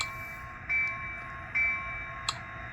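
A small model locomotive's sound-decoder bell rings in a steady repeating ding, clear and close, over a constant electronic hum.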